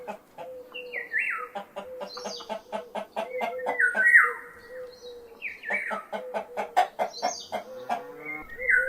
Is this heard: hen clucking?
yes